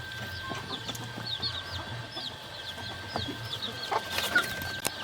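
Chickens cluck and chatter around a big, brightly coloured rooster and silkie hens, with repeated short calls at close range over a low background hum.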